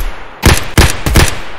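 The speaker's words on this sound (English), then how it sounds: "We're gonna just going to fire some shots up slightly in the air" Loud, close gunshots fired into the air in Escape from Tarkov: three sharp bursts of rapid automatic fire, each with a heavy low-end thump and a brief reverberant tail, with no talk over them.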